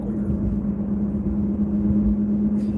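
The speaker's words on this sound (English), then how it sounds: "The sound of the car was different." Inside a car while it drives, a steady low engine drone hums with road rumble underneath, continuous and fairly loud with no talk.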